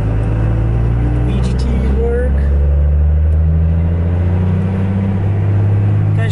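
A 2nd gen Cummins diesel truck on a test drive, a loud, constant low engine rumble heard from inside the cab with a brief spoken remark over it.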